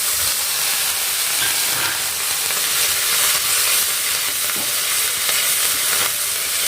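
Curry leaves frying in hot oil with roasted lentils for a traditional curry-leaf kuzhambu, giving a steady, loud, close sizzle and hiss throughout, with faint stirring scrapes and no talking.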